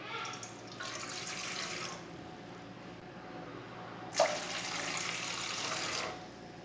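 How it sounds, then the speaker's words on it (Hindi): Two glasses of water poured into a pot for grape juice, two separate splashing pours of a few seconds each with a short gap between them, close and moderately loud. "2 गिलास पानी डालेंगे।"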